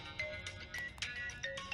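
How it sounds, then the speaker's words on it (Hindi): A mobile phone ringing with a repeated bright electronic ringtone melody in short pulsing phrases, clear and continuous throughout. "फोन मेरे लिए बज रहा है, पता ही नहीं चला"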